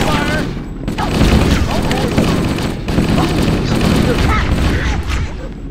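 Continuous cover fire in Halo: Combat Evolved, dense loud automatic gunfire and booms filling the scene, with shouting voices over it.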